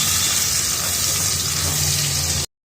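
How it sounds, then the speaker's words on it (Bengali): A ground spice paste of ginger, garlic, tomato and green chilli frying with onions in a pan for a rohu fish curry, giving a steady close sizzle that cuts off abruptly. "এবার এটাকে একটু কষিয়ে নেব"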